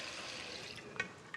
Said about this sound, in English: Pour this out. There's a strainer in here.